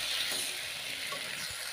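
Potatoes and peas frying with spices give off a dense, even hiss of sizzling oil close by, with a faint stir near the end and no talking.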